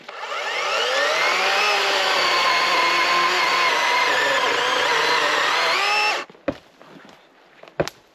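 A cheap electric chainsaw cuts wood with a loud, sustained motor whine that shifts in pitch under load for about six seconds, then stops, followed by a couple of sharp knocks.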